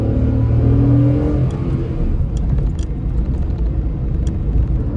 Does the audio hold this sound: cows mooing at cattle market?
no